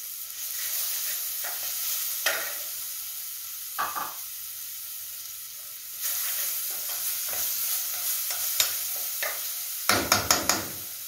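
Cassava escondidinho filling sautés in a pan with black pepper added, a steady soft sizzle broken by scattered spoon knocks and a quick cluster of taps against the pan near the end.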